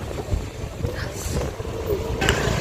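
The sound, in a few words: strong wind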